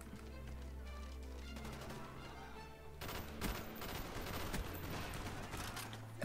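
Rapid M16 rifle fire in the video game Call of Duty Black Ops on the Nuketown map, quick bursts of sharp shots over a game music bed, getting denser halfway through.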